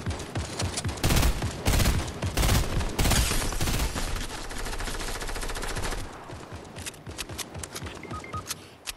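Gunfire in the Fortnite video game, dense rapid bursts of shots that are loudest early on and then continue more steadily, with some quieter game sounds near the end.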